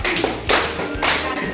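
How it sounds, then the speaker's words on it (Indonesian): Classroom of sixth-grade elementary pupils clapping for a presenting group, a short burst of close, dense hand claps with a brief pause before a second round. "Tepuk tangan dulu buat kelompok 4."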